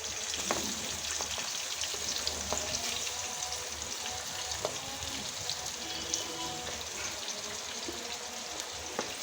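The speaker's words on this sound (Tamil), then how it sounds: "வெங்காயத்தை நல்லா வதக்கிறோம்" Sliced onions, added after cinnamon, cloves and other whole spices, sauté in a pan for a country chicken kurma, giving a soft, continuous sizzle with occasional faint stirring clicks, fairly quiet and without talk.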